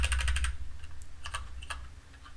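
Rapid keypresses on a computer keyboard, used to try out word-by-word cursor shortcuts, come in a quick burst at first, then in sparser, scattered taps. The clattering is close and clear, with no talking.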